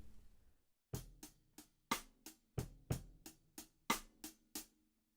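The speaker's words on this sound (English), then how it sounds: "that's just to say that you're playing it as a cross stick" Cross stick strokes on a snare drum, about a dozen dry woody clicks played alone in an even, steady rhythm with a few accented hits, close and clear against a silent background.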